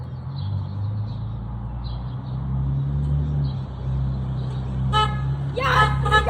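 Car horns honking from passing cars on a road, a couple of short toots near the end over steady traffic rumble, with people talking and birds chirping faintly.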